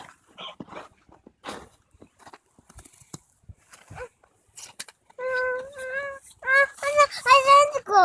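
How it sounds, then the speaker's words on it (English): A dog barks outside in the snow during a snowstorm, a few yelping barks near the end after scattered quiet rustling and faint sounds, close and clear. "Oh, look, he's barking."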